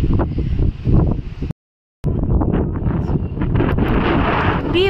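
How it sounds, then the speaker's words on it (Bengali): Strong wind roars and buffets against the microphone, with a brief silent gap before the gusting returns just as loud. "প্রচন্ড হাওয়া দিচ্ছে।"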